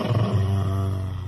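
A dog growls low and steady, a rumbling snarl with a deep sustained tone, close and fairly loud throughout the brief moment, with no talking over it.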